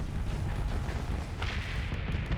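Heavy shotgun weapons on a warship in the space combat game Starsector firing in a dense, rumbling barrage, a continuous loud roar with booming bursts and no talk.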